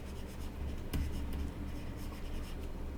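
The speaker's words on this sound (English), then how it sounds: "I'm going to write down a current age." A marker or chalk scratches across a classroom board in a few short strokes, faint and close, over a low steady room hum with no talking.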